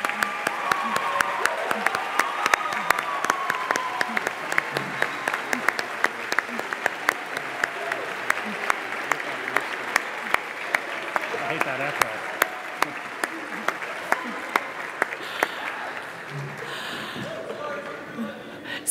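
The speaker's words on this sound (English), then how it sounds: "Please go ahead and stand and give yourselves a round of well-deserved applause." Graduates stand and applaud at a 2014 U.S. summer programs commencement ceremony, a large crowd clapping steadily with sharp individual claps standing out. The clapping thins and fades toward the end, with voices murmuring underneath.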